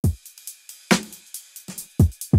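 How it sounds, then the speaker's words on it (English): A programmed drum pattern plays alone: punchy kick hits and snappy snares with crisp hi-hat ticks in a steady, tight electronic rhythm. "if I switch to the original drums, they sound like this"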